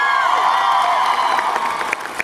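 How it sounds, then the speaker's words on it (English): A comic convention panel audience cheers and applauds for Vision, a loud sustained roar of whoops, shouts and clapping from a big crowd, with high cheers and sharper claps near the end. "Round of applause for Vision."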